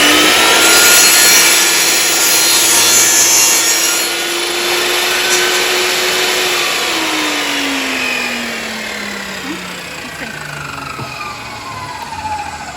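A saw cuts bevels into a fallen tree branch, a loud, continuous rasping whine whose pitch slowly sinks as the blade bogs through the wood, easing slightly quieter toward the end.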